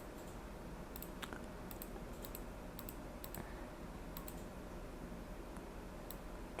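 Sharp computer mouse clicks while working in Microsoft Word on a table, scattered irregularly as a series of close, faint taps over a quiet room hum.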